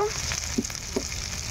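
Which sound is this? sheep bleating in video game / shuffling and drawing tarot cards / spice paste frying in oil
spice paste frying in oil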